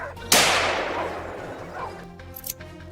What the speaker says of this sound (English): Moments later, gunfire erupted again